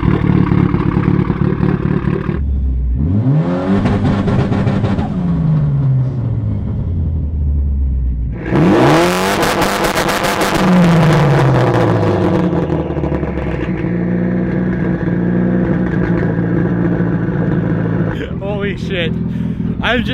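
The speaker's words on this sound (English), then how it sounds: "we can see how loud this launch control is" A very loud straight-piped Mitsubishi Evo 8 on a 2-step launch control tune revs hard in two big bursts, roaring up then dropping back, with a rumbling idle between and crackles at the end.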